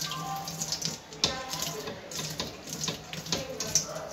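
Water runs from a tap in a train bathroom, a close splashing flow with irregular spatters and gurgles, moderately loud and steady, with no clear speech.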